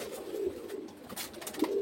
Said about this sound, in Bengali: এখানে যে কটা কবুতর ছাড়া আছে সবগুলো হচ্ছে গলাইলাল জাতের